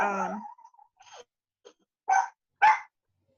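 A feisty dog barks in short bursts indoors, with two clear, fairly close barks near the end after some faint yips and noises, no talk over them.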